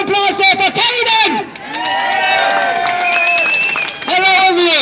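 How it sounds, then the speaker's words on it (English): A crowd at an anti-lockdown protest outside the GPO in Dublin erupts in loud, close cheering, clapping and shouted voices, with a short lull in the middle before the noise swells again. "I'd like you all to give a round of applause there for Caden!"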